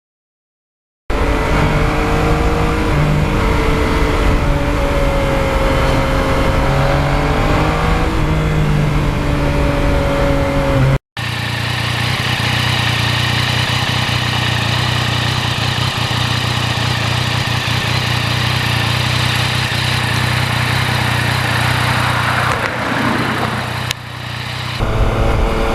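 A 2020 Yamaha MT-09 motorcycle's engine and muffler drone loudly and steadily while it is ridden on a hot summer road. The pitch rises and falls with throttle changes, and after a brief cut the engine note carries on, with no talk.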